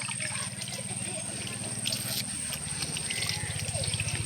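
Water is poured into a crab hole in a riverbank, producing a steady low gurgling, trickling wash that runs continuously, close by and moderately loud.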